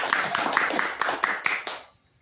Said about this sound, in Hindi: परमेश्वर के लिए हम ताली बजाएं